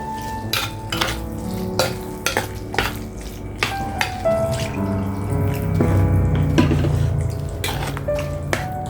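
Garlic fries in oil in a pan for Tamil poondu kulambu, a steady close sizzle broken by frequent sharp scrapes and clinks of a spoon stirring, with faint water-like bubbling in the middle.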